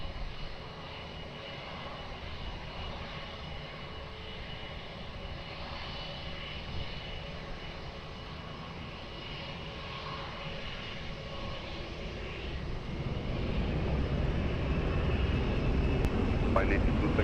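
Airplane taking off from runway 20 at Lisbon Airport: a distant, steady engine roar that swells louder toward the end as the aircraft powers up.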